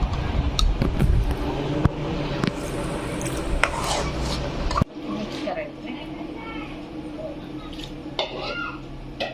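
Wheat laddu mixture with jaggery being stirred and mixed in a pan, scraping and clattering of a spoon against metal, with someone talking over it throughout.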